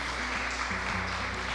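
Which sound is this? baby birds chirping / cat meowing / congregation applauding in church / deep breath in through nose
congregation applauding in church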